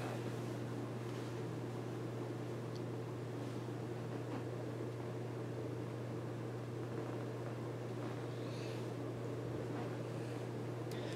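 Antique brass 38-inch Hunter R&M original ceiling fan running on high speed, giving a steady, faint low hum with a soft airy whoosh that stays constant throughout.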